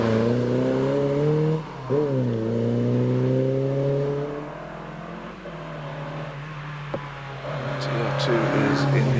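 A Triumph TR2 classic sports car races up a hill climb course, its engine note climbing through gears with audible shifts, heard at a distance while a commentator talks over it.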